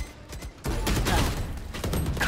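Raze's ultimate rocket launcher firing in the video game Valorant, a loud close blast with rumbling sustained explosion filling most of the moment, no talk over it.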